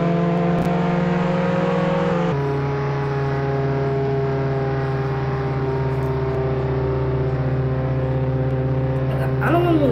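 Car in a Roblox prison roleplay game: a steady, droning engine hum with constant tonal whine, unchanging and fairly loud throughout, with a brief chirp near the end.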